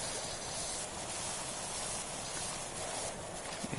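A power washer sprays soap in the Power Wash Simulator 2 video game, giving a steady, loud broadband hiss that runs continuously with slight surges and no talk over it.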